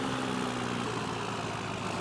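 Truck engine idling in Farming Simulator 15 while clearing snow, a steady low rumbling drone with an even level throughout and no pauses.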